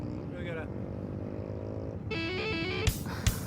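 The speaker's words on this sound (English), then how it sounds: "I got to take a rip on Ben's fancy new race bike, the Honda CRF150R" A Honda CRF150R supermoto race bike's single-cylinder engine drones and revs, rising in pitch with gear changes, close and fairly loud, with a couple of sharp knocks near the end.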